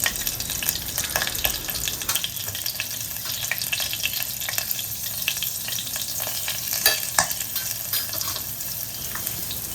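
Seven or eight curry leaves and a broken hot green chili hit hot tempering oil with the flame switched off, producing a dense, steady crackling sizzle with small pops and stirring for a potato curry.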